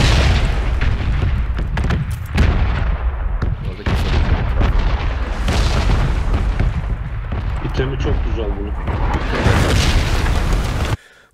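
Repeated booming explosions from red zone bombing in the video game PUBG, loud low blasts rumbling and overlapping throughout, with someone talking over them.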